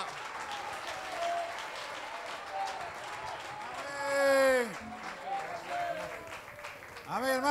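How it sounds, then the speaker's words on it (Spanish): A church congregation at a Sunday service in Barquisimeto, Venezuela, claps in praise while voices speak and call out over the applause, which swells loudly for a moment before settling. "dele aplausos"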